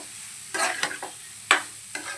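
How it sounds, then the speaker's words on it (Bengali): Leftover rice stir-fried in a pan with spices, a few distinct scraping and tossing bursts of spatula against metal over a low sizzle, close and alone without talk. "ভাত ভাজা দেখতে পাচ্ছ"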